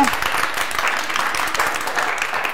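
An audience in a quiz-show studio breaks into steady, dense applause for a contestant named Luka, the clapping close and continuous throughout.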